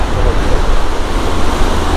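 Waves roll onto an East Sea shoreline in a steady, broadband roar that fills the full two seconds, mixed with wind rush and no distinct breaks between surges.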